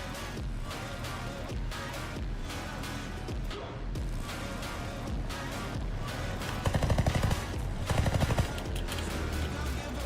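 Aircraft machine-gun fire in War Thunder, with a B-17 bomber in a UK air-tree battle, chattering in rapid bursts over a steady roar of engines and game noise, swelling loudest near the end.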